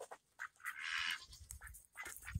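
Ducks on a farm quack faintly while eating, with soft nasal calls and a rough, drawn-out honk among quiet dabbling noises.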